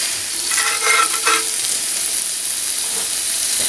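A burger patty fries in a Dutch oven pan with a little fat outdoors, giving a steady hissing sizzle throughout with a few louder crackling bursts near the start, no talk.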